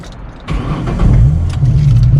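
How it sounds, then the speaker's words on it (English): A manual car's engine is started by cranking the ignition key with the clutch pressed down: a brief mechanical crank, then the engine catches into a loud, close, rumbling idle that holds steady. "put the key in the ignition, clutch all the way down to the ground, and then just crank the key"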